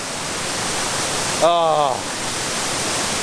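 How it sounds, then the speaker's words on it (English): A rushing waterfall in Bali roars as a steady broadband wash throughout, with a brief spoken exclamation over it midway. "what a magnificent waterfall"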